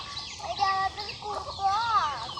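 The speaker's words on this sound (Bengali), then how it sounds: "হেন মানে মুরগি" Hen clucking in a few short, rising and falling calls close by, fairly loud against a faint background hiss.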